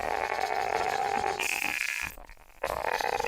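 A music track with a vocal synth effect plays as a dense, buzzing, distorted tone. It cuts out briefly near the end before returning. The sound is moderately quiet and has no talk over it.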